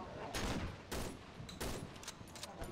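Gunfire in the horror game Cry of Fear rings out in four or five sharp, loud bursts at irregular intervals, each shot close and punchy with a brief tail.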